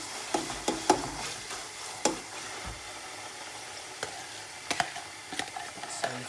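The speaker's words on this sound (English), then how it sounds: "So I fry this together with the onions." Tomato and onions frying in a pot for Nigerian jollof rice, stirred with a utensil: a low, steady sizzle under a series of sharp scraping and knocking strokes scattered through the clip.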